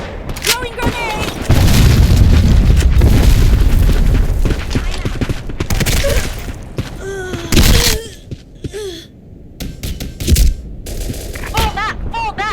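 Black Squad demolition match: a grenade blast lands as a heavy, sustained boom amid bursts of gunfire and shouted voices, loud and close, followed by scattered shots and cries.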